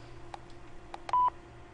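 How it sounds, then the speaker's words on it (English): Touch-tone telephone dialing in the Facade video game: three or four short, clipped DTMF beeps at irregular spacing, fairly faint, with one slightly longer tone near the end, heard alone without speech. "we gotta listen to the phone call here"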